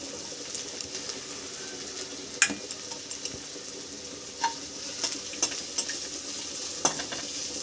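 Crushed garlic fries in a pan for a Bengali chicken stew, with a soft steady sizzle and scattered clicks and scrapes of stirring against the pan.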